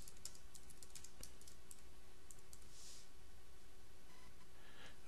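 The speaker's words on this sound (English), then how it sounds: "now I've typed in my titles" Quiet, steady typing on a computer keyboard, with light key clicks in a close, irregular patter and no voices.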